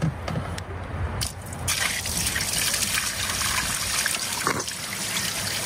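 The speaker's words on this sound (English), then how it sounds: "So he's got to pour all this water in here." Water poured through a funnel into a pond pump, a steady close trickle and gush of liquid filling it, continuous for several seconds with brief shifts in flow.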